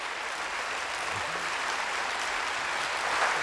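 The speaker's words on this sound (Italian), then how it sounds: "Un po' di pazienza per l'applauso." Sustained applause from an audience for actor Marcello Mastroianni as he receives a lifetime achievement Golden Lion from Federico Fellini, a dense steady clatter of many hands filling the whole stretch with no voices over it.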